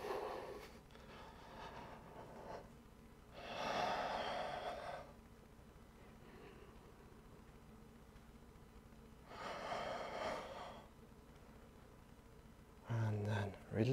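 Deep, audible breaths drawn in slowly during a yoga session, with two long airy inhalations spaced several seconds apart, and a short burst of another sound at the end; faint and close.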